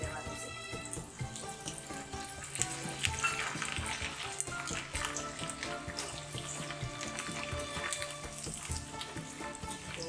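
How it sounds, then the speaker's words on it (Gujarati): Garlic frying in hot oil in a pan, a continuous soft sizzle with scattered crackles and some clinking and watery noises, heard alone without talk. "તો લસણને આપણે તળી લેવાનું છે।"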